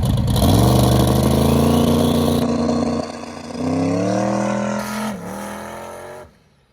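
Billy's Chevy Nova race car, fitted with a fuel cell and a new four-link suspension, revs loudly up close on a street, its engine climbing in pitch, dropping, then revving again before cutting off.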